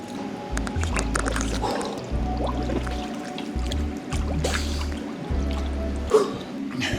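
Water sloshes and splashes in a cold plunge tub as someone shifts around in it, with soft irregular swishes and drips close by, while a low intermittent hum runs underneath.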